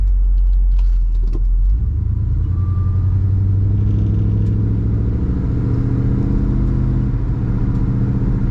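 A 1967 Ford Galaxie 500 Convertible accelerates from about 30 mph, its V8 rumble deepening into a smooth, steady rising drone, heard close and loud with no talking.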